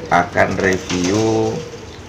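Several short, soft zebra dove coos in quick succession, then one longer, drawn-out coo that rises slightly, close by and fairly clear.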